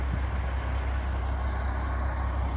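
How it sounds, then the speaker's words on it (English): Trucks return to a yard for the night as a deep diesel rumble and idling drone, steady and moderately loud, with a low engine throb underneath and no voices. "A couple of the trucks are coming back in."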